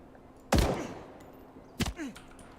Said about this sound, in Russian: Проверили, блин, просто постреляли.